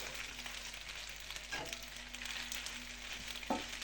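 Pasta with minced meat fries and dries in a skillet, a faint even sizzle with a couple of soft utensil scrapes, quiet and without voices.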